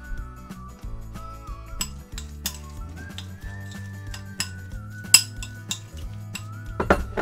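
Utensils clink and scrape against a bowl as a salad is tossed, with scattered sharp clinks and a few louder knocks over a steady low background hum, close and fairly quiet.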